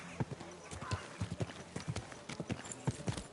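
A horse's hooves clop in a quick, close rhythm on a street in Kingdom Come Deliverance 2, with voices speaking over the hoofbeats.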